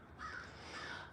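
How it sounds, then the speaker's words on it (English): Crows caw outdoors in the woods, two harsh calls a short way off over steady background bird chatter and ambient hiss, with no speech. "This is like bird crazy here, man."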